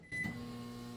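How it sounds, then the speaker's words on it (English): A microwave oven hums steadily after a click as it heats bouillon cubes in a little water, a low constant drone close by with a faint tonal whine. "That's just a couple seconds in the microwave"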